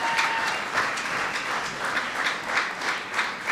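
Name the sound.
audience applause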